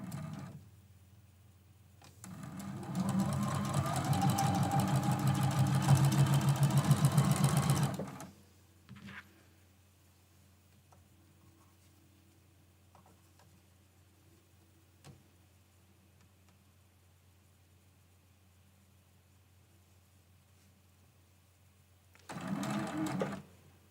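A sewing machine stitches a seam on a quilt-as-you-go Christmas quilt block, running in a steady, fast whir for several seconds, then falling quiet before a second short burst of stitching near the end.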